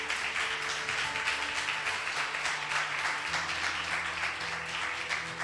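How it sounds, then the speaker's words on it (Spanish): A congregation at a church service gives a strong round of applause to the Lord. The clapping is steady and sustained, with faint tonal hum or music underneath. "Dale un fuerte aplauso al Señor"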